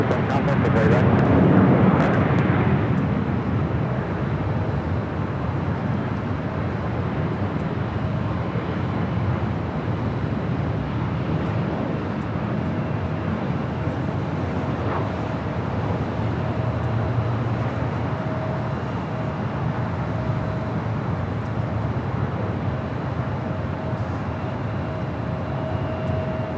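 Alaska Airlines plane in special livery arriving at LAX, a loud jet rush at first that settles into a softer steady engine drone with a faint whine, under intermittent talk.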